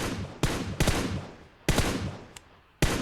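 Gunfire in the mobile battle royale game PUBG Mobile: several loud, sharp shots in irregular bursts, each with a short decaying tail, separated by brief gaps.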